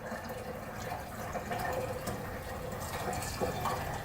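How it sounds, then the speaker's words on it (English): Hot water pours steadily from a bucket into the tank of a carpet cleaning machine, a continuous close splashing and gurgling fill with no talking. "So now we'll take our bucket of hot water and fill this up until we can see the water starting to come"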